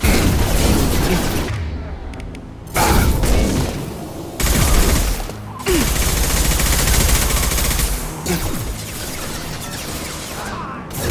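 Bursts of automatic gunfire and booming shots in the video game Mass Effect 2, several loud volleys separated by quieter gaps, with game sounds between them.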